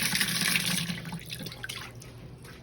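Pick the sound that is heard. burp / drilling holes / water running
water running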